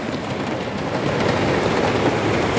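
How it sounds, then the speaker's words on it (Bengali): Heavy rain drums on a car's roof and body, heard from inside the parked vehicle. It is a loud, steady hiss that swells slightly partway through, with no voices. "এইদিকেও গাড়িতে বসে রয়েছি, বৃষ্টির কারণে নামতে পারছি না, প্রচুর বৃষ্টি"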